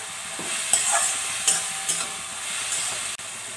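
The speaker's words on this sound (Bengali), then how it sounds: "খুব ভালো করে নাড়াচাড়া করা হয়ে গেছে" Poal chatu mushrooms with chillies are stirred in a hot pan, a steady close sizzle broken by several distinct scraping spatula strokes and faint clinks.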